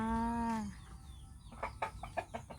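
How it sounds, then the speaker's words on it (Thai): Chickens cluck nearby in a quick series of short calls after a drawn-out squawk, fairly quiet with light background noise. "นี่มีไก่ด้วยนะคะ เลี้ยงไก่"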